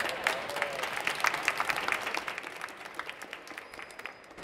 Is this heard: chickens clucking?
no